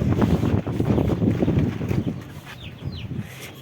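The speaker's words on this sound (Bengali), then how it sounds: "এই দেখতে পাচ্ছেন মুরগি, কত বড় বড় মুরগি" Large chickens in a coop clucking and squawking, with a few brief higher calls near the end, all over a constant rough roar of wind buffeting the microphone; no speech.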